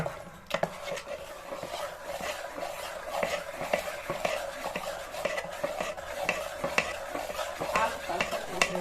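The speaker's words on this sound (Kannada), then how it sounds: "ನಾನು ಸೌಟಲ್ಲೇ ಕಲಿಸ್ತಾ ಇದ್ದೀನಿ" A ladle stirs masala dosa batter in a pot, giving a steady wet swishing with small scraping clicks against the container, continuous and close with no talking.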